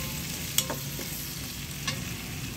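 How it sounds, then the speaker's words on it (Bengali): Chopped onion frying in a pan with prawns gives a quiet, steady sizzle, broken by a few soft stirring clinks and scrapes, with no talk. "পেঁয়াজটা একটু আমি আধা ভাজা করে নেব।"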